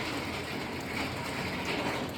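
Steady rain falls outdoors in a Pahadi hill setting, a dense, even hiss of drops pattering on surfaces that stays constant and fairly close throughout, with no voices.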